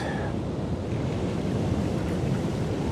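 Ocean waves break at St Michael's beach on the KZN South Coast, a loud continuous rushing surf roar with wind buffeting the microphone throughout.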